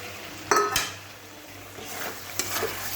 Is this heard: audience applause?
no